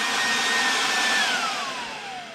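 A Snapfresh 20V cordless reciprocating saw runs on its second setting, giving a steady close whirring hiss with a high whine that slides down in pitch as it winds down slightly, with no talking.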